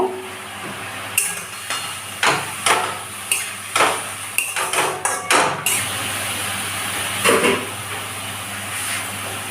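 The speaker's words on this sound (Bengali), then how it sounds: "এর ভেতরে দিয়ে দেব নুন আর হলুদ। আর একটু নেড়ে নেব।" Red spinach leaves with salt and turmeric are stirred in a pan, a series of close clanking spoon strikes and scrapes against metal over a low steady background, without speech.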